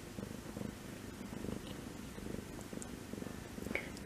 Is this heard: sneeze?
no